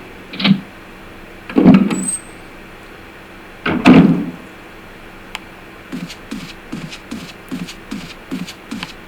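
A door opening in the video game Resident Evil, heard as two heavy creaking surges with a thud, followed by a quick run of soft, rhythmic footsteps.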